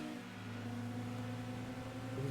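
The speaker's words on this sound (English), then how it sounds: "With cars that literally sound like broken CD drives on your computer" Steady whirring drone of car engines in the racing game Gran Turismo 2, thin and mechanical like a failing computer disc drive, with a constant pitch that holds throughout, even and fairly loud with no talk over it.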